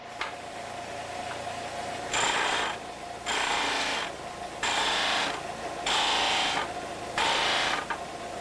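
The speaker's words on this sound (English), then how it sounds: "The entire back surface is polished with a finer buff than what was used in the previous step." A buffing wheel polishes the back face of a very thin blade in five bursts of roughly a second each, a loud hissing rasp against a steady machine hum in the gaps.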